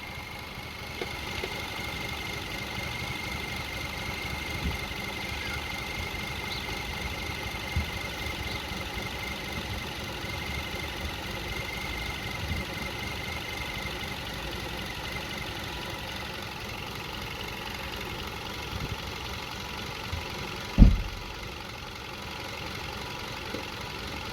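Toyota Sienna engine (2004–2010) running after a timing belt and water pump job, rough and shaking, a steady low idling hum with a faint vibration and one sharp knock near the end.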